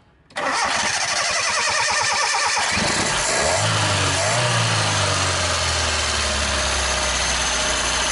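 A hard-starting car engine cranks and catches, then settles into a loud, steady idle close by, with no talking.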